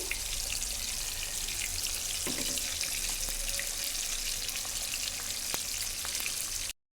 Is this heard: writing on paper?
no